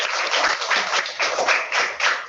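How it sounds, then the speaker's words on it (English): Parents and classmates clap at a young children's class assembly in a school hall, a steady, fairly close patter of many hands that swells and dips in waves for a couple of seconds. "yourselves a clap"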